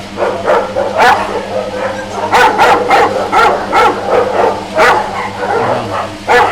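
Large-breed dogs such as a Newfoundland and an English Mastiff bark at a kennel, with loud, repeated deep barks in irregular bursts and a few yips, close by and dominating the scene.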